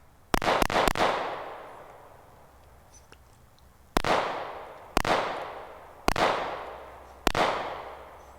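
A Staccato CS handgun fires at an outdoor shooting range: a quick burst of three sharp shots, a pause, then four single shots spaced about a second apart, each loud and close with a ringing decay.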